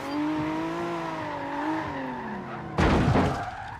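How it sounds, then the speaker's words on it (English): Lexus LFA supercar passing behind at a drift session, its high engine note rising and falling in sustained harmonic tones before a sudden burst of broadband roar near the end. "It's an LFA."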